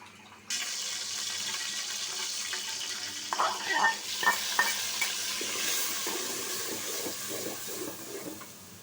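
Spice paste sautés in a pot with a constant loud sizzle, joined midway by clustered stirring scrapes and clinks against the metal, with brief talk in the background.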